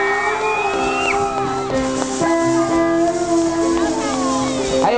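A concert crowd at a 2008 New Year's Eve show in Keelung screams and cheers loudly and continuously, with whoops and shouts rising over a steady roar and sustained ringing tones.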